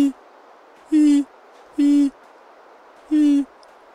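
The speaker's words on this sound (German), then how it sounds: "Und draußen pfeift die ganze Zeit so ein bescheuerter Vogel rum hier schon den ganzen Tag." A bird calling outdoors in the survival video game The Long Dark: three loud, evenly spaced hoots about a second apart, close and clear over a quiet background.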